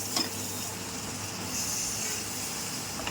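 Tomato gravy for matar masala being stirred in a pan, a soft continuous sizzle and faint scraping, quiet and steady with no talk over it.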